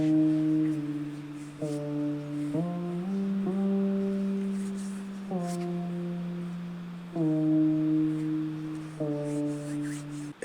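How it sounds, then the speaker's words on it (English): A synth bass line plays sustained, buzzy low notes that step between pitches in a bouncy pattern, moderately loud over a faint wash, with no talking. "The synth bass sounds like this."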